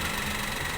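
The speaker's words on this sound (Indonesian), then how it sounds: "apabila kita naikkan RPM-nya seperti ini dan kasar, itu artinya mobil lagi bermasalah" A used car's engine being revved during an inspection, heard as a brief steady mechanical drone with a rough, uneven texture, close by with no talk.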